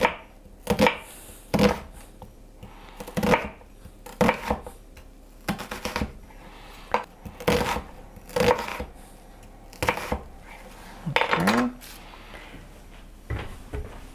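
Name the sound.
knife slicing vegetables thinly for vegan tofu ramen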